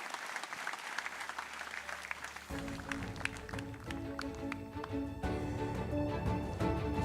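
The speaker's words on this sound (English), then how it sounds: "please give a round of applause for the insightful keynote speech" An audience claps after a keynote speech at a sustainability forum in Indonesia, steady, dense applause from a large hall that starts softly and grows fuller and louder, continuing throughout.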